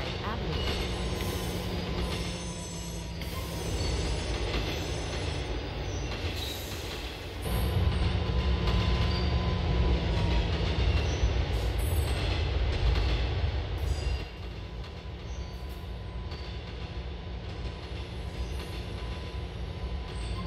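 GTA IV J subway train running with a steady rumble, rolling wheels and rail squeal, louder and heavier in the middle stretch, with no talk.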